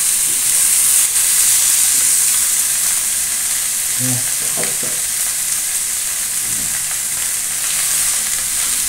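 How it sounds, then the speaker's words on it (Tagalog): Leftover lechon paksiw sizzles steadily in a hot pan with no added oil, a constant close frying hiss with a few brief stirring scrapes midway. "Ayan, tumutunog yung kawali."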